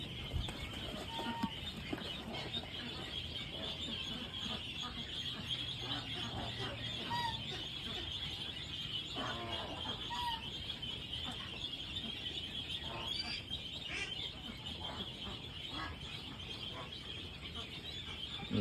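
Broiler ducks in a farm flock nearing 40 days old, with quacks and soft calls scattered over a steady background hiss and low hum, fairly near and continuous throughout.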